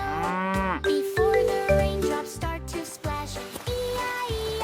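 A cow moos repeatedly, a run of loud, drawn-out lowing calls close by with brief gaps between them and no talk over them.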